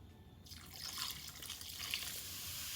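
Champagne fizzes and bubbles as it is poured for a mimosa quick bread, a close, steady hissing effervescence that swells after a brief quiet start and continues without talk.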